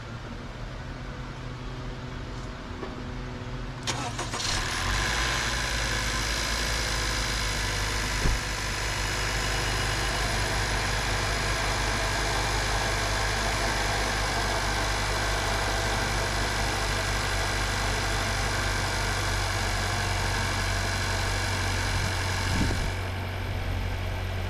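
A car engine cranks and then idles right after a battery check, where the battery was wet and smelled bad. The steady idle hum runs loud and close for about twenty seconds, with no talking.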